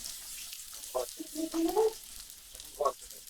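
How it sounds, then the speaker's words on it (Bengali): Garlic cloves frying in mustard oil with panch phoron for olive pickle sizzle softly, with a few short bursts of crackle and stirring against a quiet background. "রসুনের কোয়াগুলোকে একটু ভালো করে ভেজে নেব।"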